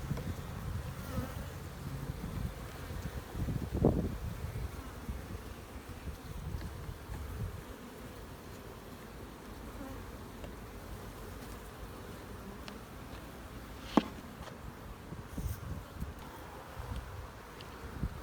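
Bees buzz around banked mated queen cages that also hold nurse bees and a candy plug. The hum is steady and fairly faint, with a soft low drone and a few brief louder passes close to the microphone.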